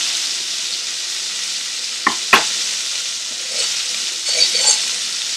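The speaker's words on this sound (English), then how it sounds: "I can add the remaining ones to fry" Prawns fry in a hot pan for a vindaloo, with a steady bright sizzle throughout, two sharp clacks as pieces are moved, and a few louder crackling bursts near the end.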